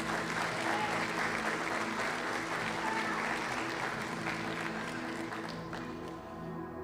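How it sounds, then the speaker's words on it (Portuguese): A conference audience in a church-style gathering applauds for Jesus, a thick, continuous wash of clapping that holds steady and then eases slightly near the end. "Dá um aplauso para Jesus."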